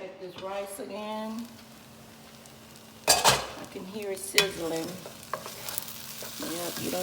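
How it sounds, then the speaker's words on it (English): Rice sizzles and fries in a pan, a continuous crackle joined by bursts of stirring and utensil scraping, while a person talks over it. "Check this rice again. I can hear it sizzling."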